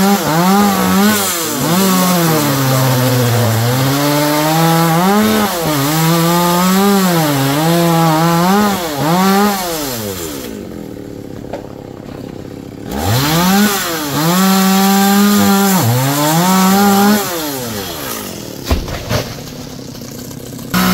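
A chainsaw cuts through large coconut and jackfruit trees, its engine loud and close, rising and falling in pitch as it bites into the wood, with a short lull midway before the saw revs up and cuts again.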